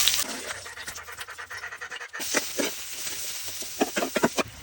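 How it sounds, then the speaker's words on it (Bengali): Onions fry in hot oil for a Rangpur home-style dish, a steady crackling sizzle with bursts of louder popping and spattering, close and continuous, with no talking. "পেঁয়াজগুলি ভাজি নেব"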